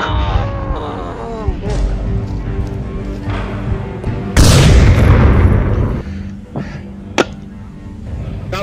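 Gunfire from the VR shooter game Onward cracks out in sharp reports, with a dense burst near the middle and a few isolated shots after, mixed with player voices and game noise.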